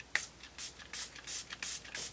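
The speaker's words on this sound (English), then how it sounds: "I'm going to use the Milani Make It Last Setting Spray" Milani Make It Last setting spray misted over a finished natural makeup look: a few soft, breathy hissing bursts in quick succession, faint and close, with no talking.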